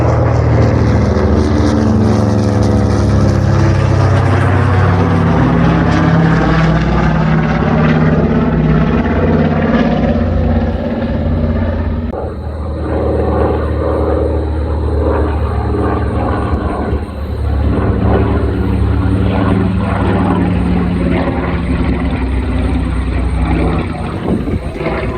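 B-25 Mitchell warplane propeller engines roar loudly during takeoff at an airshow, a sustained, pulsing drone that shifts in pitch as the bomber passes and climbs away, with no talking.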